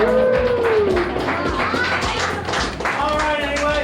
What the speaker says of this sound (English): Go ahead and give yourself a round of applause.